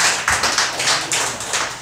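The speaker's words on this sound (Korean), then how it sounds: "박수 한번 보냅시다" A church congregation at a Sunday worship service claps together, a quick run of sharp, evenly spaced claps close by, with no talking over them.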